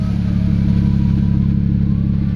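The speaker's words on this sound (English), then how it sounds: "listen to that stock exhaust sound" A BMW 335i with a stock exhaust drones loudly and close, a deep, steady engine burble holding an even pitch throughout.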